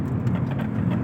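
Steady road traffic on a Dubai highway heading toward Sharjah near Dubai Airport, a continuous low rumble of vehicles passing close by with no talk over it.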